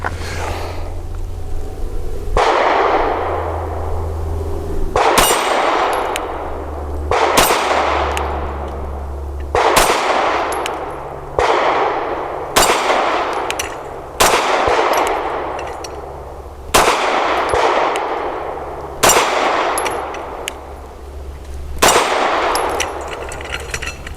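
Eight sharp gunshots from a Tisas Zigana PX-9 G2 pistol firing 115 grain rounds, loud and close, spaced unevenly about two to three seconds apart with ringing decay between them, no talking.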